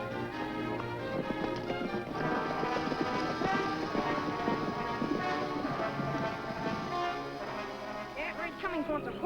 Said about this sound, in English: That Red Cummings wants a horse, Fury